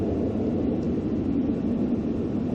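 Jet engine drone of a Cessna Citation S550 in the X-Plane flight simulator during an ILS approach, a steady low rumble that stays even and constant throughout, with no talk.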